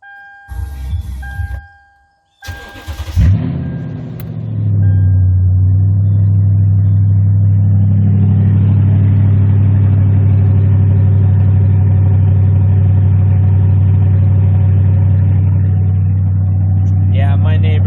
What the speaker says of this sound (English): Guess we'll give you guys the old cold start here with the muffler delete.